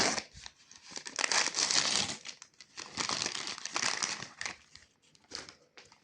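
Loud crinkling and rustling of plastic packaging close by, in bursts with short pauses as the wrapper is handled and pulled open; no talking.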